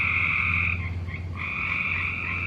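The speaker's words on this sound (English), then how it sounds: "Those frogs are getting intense. Like, I feel like I'm surrounded by frogs." A dense chorus of frogs croaks loudly and continuously all around, with steady rasping calls layered over a constant low throb, no voices present.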